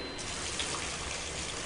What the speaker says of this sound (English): one of the showers turns on.